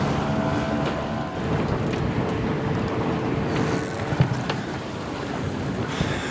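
Strong wind buffets the microphone at a dock in Clifton, a steady broadband roar with gusts rising and falling, water and boat noises mixed in, no talking.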